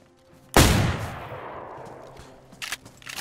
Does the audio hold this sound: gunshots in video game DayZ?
yes